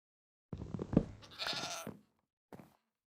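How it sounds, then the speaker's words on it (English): A Minecraft sheep bleating, two close bleats followed by a short third one after a pause, clear and alone against silence. "Why did I hear a sheep in a place where there aren't even any sheep?"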